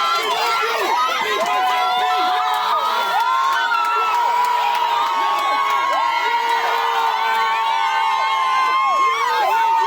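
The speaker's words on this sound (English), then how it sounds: "Police officers guided the crying F&M MP through the cheering crowd as they chanted MacAlpine" A crowd of supporters cheers, shouts and chants the name MacAlpine as a tearful MP is led through by police, a loud, steady roar of many overlapping voices with whoops rising above it.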